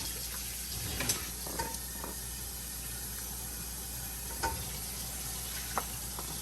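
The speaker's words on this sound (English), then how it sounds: "And I'm going to stir." Steady sizzling of jambalaya cooking in a pan, with occasional scraping clicks of a spoon stirring through it.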